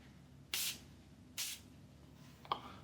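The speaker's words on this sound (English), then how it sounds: "now we're going to spray this Aquatica from Rayhaan and see what's up with it." Three short hissing bursts from a Rayhaan Aquatica perfume atomizer sound close up in a quiet room, evenly spaced. The last spray is the shortest.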